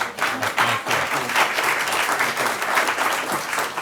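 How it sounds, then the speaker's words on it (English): A roomful of people at a town select board meeting for non-voting taxpayers claps in steady, fairly loud applause, with a few murmured voices underneath. "a round of applause"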